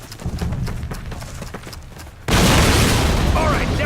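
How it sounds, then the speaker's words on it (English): Cannon fire in Call of Duty, a World War II shooter: scattered gunshots and thuds under game voices, then a sudden loud blast that leaves a sustained roaring wash of noise. "This cannon's about to go boom!"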